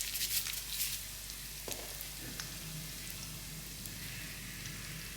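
Curry leaves and asafoetida sizzle in hot oil in a pan, giving a steady, bright frying hiss with a brief crackle partway through and no talking.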